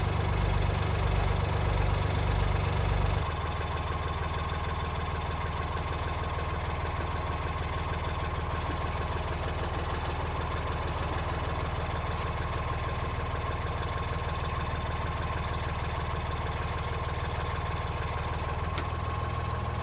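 A low, steady narrowboat engine idles on a canal throughout with a rhythmic chug, loud and close, briefly thumping more heavily at the start.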